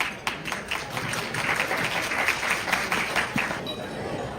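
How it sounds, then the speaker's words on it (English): Audience applause for Mr. Liao at a North American Taiwanese physicians' association annual meeting, a steady wash of clapping at moderate level with some murmuring voices mixed in throughout. "Give a warm applause to Mr."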